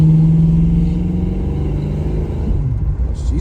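A 1966 Chevrolet Nova engine rumbles loudly as the car drives off, a steady low growl with a slight rise in revs, heard alone at close range.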